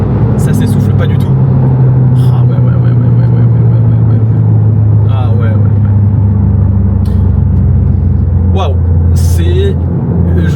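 A Toyota GR Yaris engine pulls hard under acceleration, a loud sustained drone from inside the car with road rumble beneath and someone talking briefly over it.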